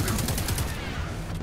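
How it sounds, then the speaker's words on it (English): An auto rifle in Destiny 2 fires a fast, evenly spaced burst of loud shots that trails off into a dense rumble of game noise. "Let's try the auto rifle."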